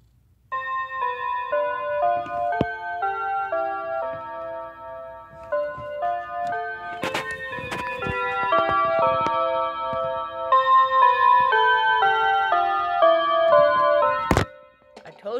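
A Seco Westminster chime clock rings its melody of clear, sustained bell-like tones in a measured sequence, near and fairly loud, with a few knocks and clunks mixed in before the chiming stops abruptly.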